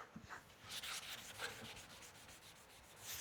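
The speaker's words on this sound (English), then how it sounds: "we're just kind of polishing it off like you would do to your shoes" A cloth polishes wax off a wooden table with a series of soft, close rubbing strokes, a quiet rhythmic swishing alone with no talking.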